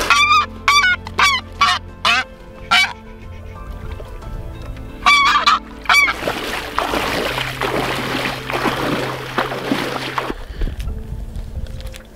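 Geese honk repeatedly in bursts, fairly close, during a February goose hunt, then a steady rush of water or wind noise takes over with a low hum underneath.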